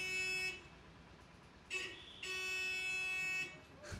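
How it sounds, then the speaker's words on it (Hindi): A vehicle horn sounds on a road during a rainy-season tour in Barmer, three sustained blasts, the middle one brief and the last long, moderately loud over background chatter and traffic. "हॉर्न बजा लेने देते हैं उसको पहले"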